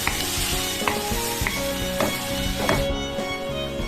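Chopped tomatoes frying in a pan are stirred with a spoon, a continuous loud sizzle broken by a few scraping strokes against the pan, close up with no talking.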